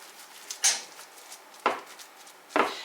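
A spoon pressing a fairly dry filling down into a pan makes three separate dull knocks and scrapes, spaced about a second apart, close and fairly quiet.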